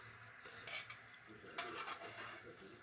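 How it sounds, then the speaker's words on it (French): Butter bubbling and sizzling softly in a pan as it cooks toward brown butter for fruit financiers, a steady faint crackle with a few light clinks of a utensil stirring against the pan. "le beurre bout un petit peu encore"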